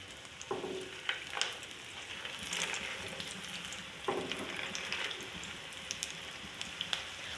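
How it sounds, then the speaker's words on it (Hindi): Shami kababs frying in moderately hot oil in a pan: a steady, soft sizzle with crackles and light spitting, close but fairly quiet, with no voices. "अभी इसमें मैं कबाब डालती हूँ"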